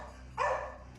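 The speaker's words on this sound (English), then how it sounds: "Dogs barking and everything." Dog barking in a house, a single brief bark bursting out over a steady low background hum, moderately close and loud.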